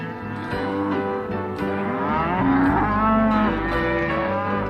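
Cattle moo repeatedly at close range, their long drawn-out calls overlapping, while animals are marked and branded in a stockyard on an outback property along the Birdsville Track. No voices are heard.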